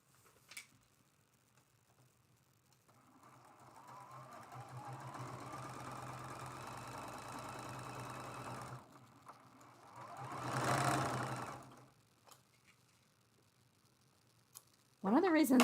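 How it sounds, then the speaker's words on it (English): A sewing machine hums through a quilt seam on a quilt-as-you-go patriotic mug rug for about six seconds, nearby and moderately loud, then stops, with rustling fabric and a clack after. "And we're going to sew this seam."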